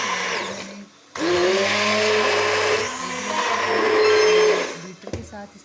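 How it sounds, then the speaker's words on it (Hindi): An electric beater whirs loudly as it churns cream, set overnight with curd in a metal pot, to make butter for desi ghee; a steady motor whine runs about four seconds, then stops with a few clatters. "बीटर के साथ इसको बीट कर रहे हैं"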